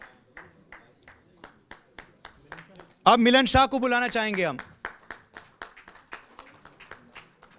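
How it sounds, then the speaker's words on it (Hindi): Light applause from the audience at a medical awards ceremony as a winner is welcomed on stage. A scattering of separate claps runs throughout, and an announcer speaks over them midway. "तालियों से इनका स्वागत करें और अभिनंदन करें।"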